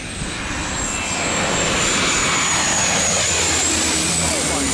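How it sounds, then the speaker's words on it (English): Airplane approaching to land at St. Barthélemy airport, a steady loud engine roar swelling slightly and holding as the aircraft passes close overhead. "This is St. Barthélemy, one of the most challenging airports to land at in the world,"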